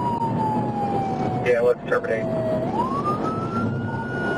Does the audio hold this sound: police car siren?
yes